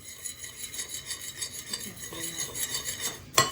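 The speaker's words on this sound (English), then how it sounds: "I'll mix this up because it's like a witch's brew" A spoon stirs a homemade chicken finger mixture in a bowl, giving a steady, close scraping and swishing with faint clinks and a sharper knock near the end.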